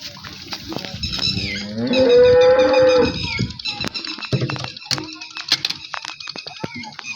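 Buffalo at milking time on a farm, lowing in a long, loud moo midway through, with further shorter calls and clatter around it and voices of people nearby.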